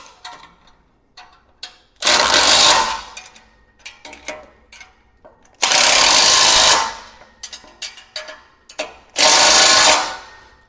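Ratchet socket tightening a bolt on a landscape rake wheel kit, with three long, loud whirring bursts separated by quieter clicks and metallic handling, close up.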